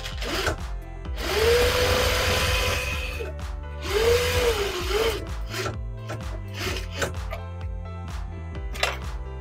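A sewing machine runs in two sustained bursts, top stitching along the edge of a small tote bag, its motor humming steadily before stopping, followed by softer handling clicks and rustles of fabric.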